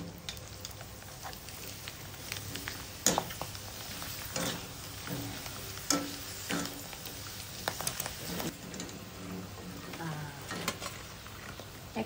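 Potato finger chips fry in hot oil after a batch of pakoras, giving a steady close sizzle broken by occasional sharp pops and crackles, with no talking.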